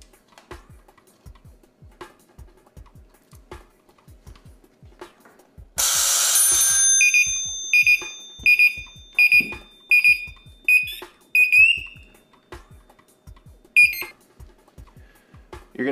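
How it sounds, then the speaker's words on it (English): An SCBA low air alarm bursts on shrilly, then settles into a repeating series of sharp high beeps, loud and close, over faint ticking clicks. "you're gonna listen for the low air bell and the actual alarm"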